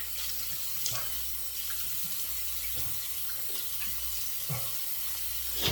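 Tap water runs steadily into a sink to wet a Chiseled Face Legacy aluminum double-edge safety razor before shaving. The flow is a constant close hiss with faint splashes and small clinks throughout.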